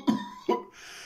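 A cough added to a film character's voice, heard as two short, close, dry coughs in quick succession, followed by quiet room tone with no talking.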